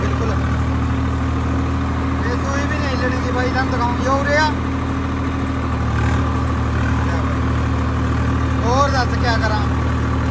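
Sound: tractor engine idling, running with rotavator

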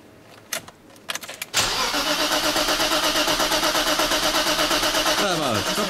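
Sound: car engine cranking

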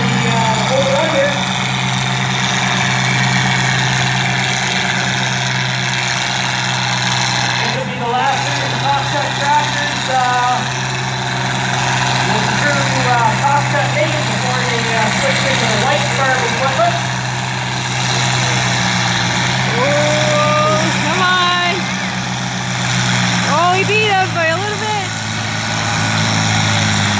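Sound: two-wheel drive tractor engine at a tractor pull

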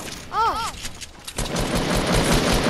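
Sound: double barrel shotgun shots in Fortnite video game

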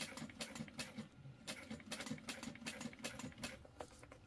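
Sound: sewing machine stitching a crossbody bag

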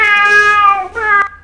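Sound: cat meowing, Scratch sound library

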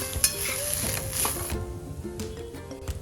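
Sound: fresh grated coconut being sautéed in a pan

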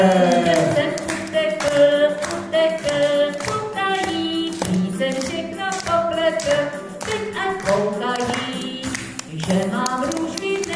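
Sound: clapping hands

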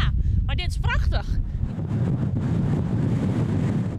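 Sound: strong storm wind blowing

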